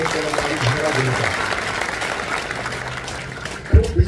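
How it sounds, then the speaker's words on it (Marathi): Crowd clapping to welcome Sharad Pawar at a school building inauguration ceremony, a moderate wash of applause mixed with a voice speaking over a loudspeaker, ending in a few louder thumps. "सर्वांनी मनापूर्वक साहेबांना टाळ्या वाजवून त्यांचं स्वागत केलं"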